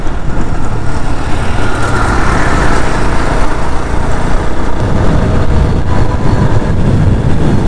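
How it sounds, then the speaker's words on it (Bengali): Road traffic on a city flyover, heard from a moving motorbike, makes a loud, continuous, close roar of engines and wind with no clear breaks between passing vehicles. "গাড়ির সাউন্ড আবার ব্যাক।"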